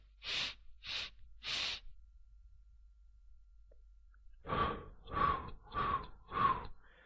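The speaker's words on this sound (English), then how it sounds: "I'm breathing in through my nose, holding it for 4 counts, and then breathing out my mouth." Slow, deliberate breaths during a calm breathing exercise: three soft airy inhales through the nose, a long silent hold, then four breathy exhales through the mouth, close and quiet, with no talking.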